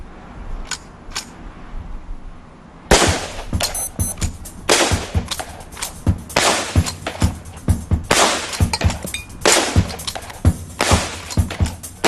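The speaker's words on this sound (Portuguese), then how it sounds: "Em seguida, o rifle Henry de repetição usado pelos Lakotas e Cheyennes." A Henry repeating rifle fires a long string of loud, sharp shots in quick succession, each crack ringing out, after a few faint ticks at the start.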